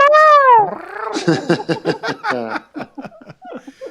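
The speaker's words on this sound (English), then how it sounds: "The cat has decided to, make his appearances known to everybody." A cat at home lets out one loud, drawn-out meow, and people then break into close, bubbling laughter.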